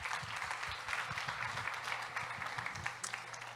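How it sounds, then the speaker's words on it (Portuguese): An audience gives a round of applause, a dense, even patter of many hands clapping at moderate distance for a few seconds. "uma salva de palmas."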